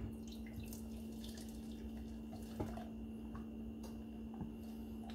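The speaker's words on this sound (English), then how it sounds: "So I like to strain it one more time." Green juice poured through a strainer, a soft continuous trickle and splash of liquid with a few small drips, quiet and close with no voices.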